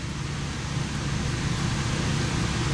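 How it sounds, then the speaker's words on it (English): A loud LS3 V8 engine rumbles steadily through Flowmaster mufflers, giving a deep, continuous droning exhaust note with no talking. "With these Flowmaster mufflers, it is loud."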